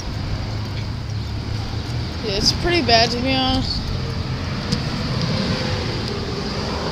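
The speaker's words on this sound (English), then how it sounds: "what is up with all these trucks" Heavy trucks roll past on a wet road after school time in light rain, a steady traffic rumble with passing whooshes while someone talks over it.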